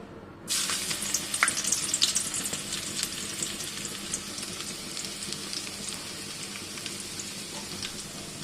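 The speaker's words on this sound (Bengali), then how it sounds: "আমি এখানে পরিমাণ মতো তেল নিয়েছি, এর মধ্যে দিয়ে দেব আদা রসুন কুচি" Chopped ginger and garlic hitting hot oil, a loud sudden sizzle starting after half a second and then crackling and spitting steadily and close, with no talking.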